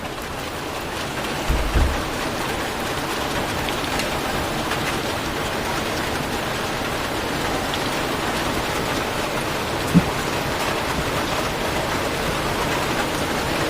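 Heavy rain pours down steadily and loudly, a dense, unbroken wash of noise with a couple of brief thumps near the start and one sharp knock later.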